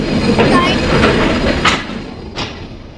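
A train rumbles through Jessore railway station, a loud continuous rolling roar with periodic rhythmic clacks from the wheels, gradually easing toward the end.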